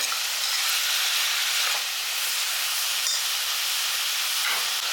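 Steady hissing sizzle of vegetables sautéing in a hot pan, continuous and moderately loud, with a couple of faint scraping stirs.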